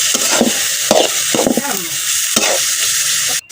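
Dheki greens fry in a pan with turmeric powder, giving a loud, continuous close sizzle broken by repeated scraping and clinking strokes of a stirring spatula.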